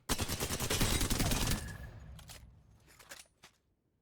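The Alternator SMG in Apex Legends fires one rapid full-auto burst of about a second and a half, then a few scattered, fading shots and clicks.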